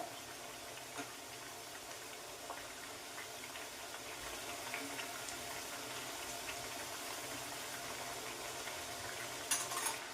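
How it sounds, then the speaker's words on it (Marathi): Green chakli frying in hot oil, a faint steady sizzle and bubbling hiss throughout with occasional soft stirs. "तेलामध्ये असं वर खाली करून चकल्या आपल्याला खुसखुशी तळून घ्यायच्यात"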